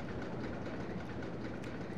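A roller coaster train runs in the RollerCoaster Tycoon video game, giving a dense, continuous rumbling rattle like wheels on track, steady and fairly close.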